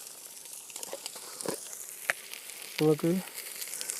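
Onions sizzle steadily in a pan for a Kerala-style varutharacha chicken curry, a soft continuous frying hiss with a few stirring scrapes as a voice talks briefly over it.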